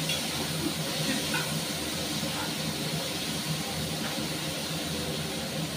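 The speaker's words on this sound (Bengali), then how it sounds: "বেশ একটু লাল লাল করে আলুটাকে আমি ভেজে নেব" Potatoes fry in hot oil in a kadai, a loud, close and unbroken hiss and sizzle that holds steady from start to finish.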